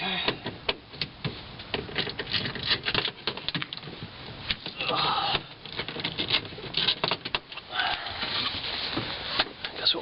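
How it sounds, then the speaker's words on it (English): A wrench loosens 10mm bolts on the IMA battery cover of a Honda Insight, producing rapid ratcheting clicks in uneven bursts with short pauses, close and fairly loud. "there's a whole bunch of 10mm bolts there, so we'll start loosening all those up and see what happens"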